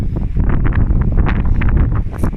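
Loud, blustery winter wind on the Portuguese coast buffets the microphone in continuous rumbling gusts amid rain, with faint rustling mixed in.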